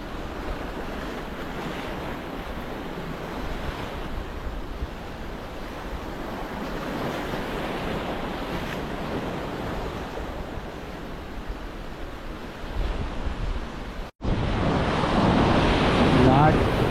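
Big sea waves crash and wash continuously on a rocky fishing shore in the evening, a loud roaring surf with heavy wind buffeting the microphone, rising in a louder burst near the end.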